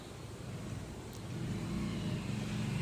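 Massey Ferguson 2750 DI Kuber tractor diesel engine running after a hydraulic repair, a steady low rumble that grows slightly louder and holds even, with no talk over it.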